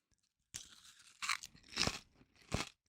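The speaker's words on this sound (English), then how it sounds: "Good crunch too. I like the crunch." Pesto-flavoured potato chips crunch in a few loud, close bites followed by chewing, roughly four bursts across a couple of seconds with no talking over them.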